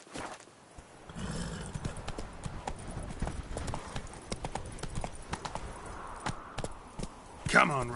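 The horse Roach trots in a video game played on PS4 Pro, a quick rhythmic clip-clop of hooves with a brief whinny near the end, while a voice speaks over it.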